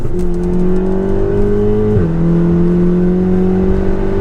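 A VW Golf R engine pulls hard from inside the cabin, a loud steady drone that rises in pitch, briefly dips at a gear change, then climbs again.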